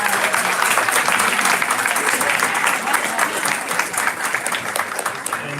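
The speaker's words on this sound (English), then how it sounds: "Round of applause" Audience at a school board meeting applauds students, a dense, steady wash of clapping from many hands filling the room throughout, with faint voices beneath.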